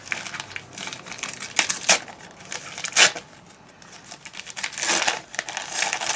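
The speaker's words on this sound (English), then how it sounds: "I love unwrapping presents." Wrapping paper crinkling and tearing as birthday presents are opened, a busy run of close crackles and rustles with a few louder rips.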